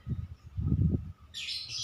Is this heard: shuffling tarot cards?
no